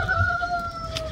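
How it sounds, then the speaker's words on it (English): Chickens and a rooster by a roadside in Spain give a short, clear squawking call, near and fairly loud, over low outdoor background noise. "there's road chickens"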